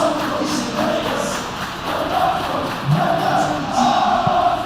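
Stadium crowd in eFootball PES 2021 applauding a substituted player during a Chelsea Master League match, a broad, steady wash of clapping and murmuring that swells slightly toward the end.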